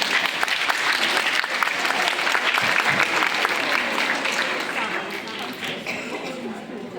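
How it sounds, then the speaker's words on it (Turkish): An indoor crowd at a school jubilee celebration claps loudly and steadily for several seconds, and the applause fades slightly toward the end. "Alkışlarınızla Leyla müəllimə çağırılır."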